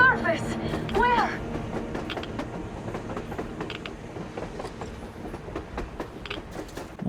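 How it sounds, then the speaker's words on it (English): Surface train in the video game Metro Exodus, a loud rolling rumble with rhythmic clickety-clack and brief metallic wheel squeals near the start, then settling into a steady clatter as voices talk over it. "Yep, that is a train."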